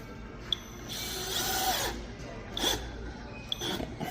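Cordless drill, Kobalt or Skil, run in short whirring bursts inside a Lowe's store, with a couple of sharp clicks and a faint background store hum between the bursts.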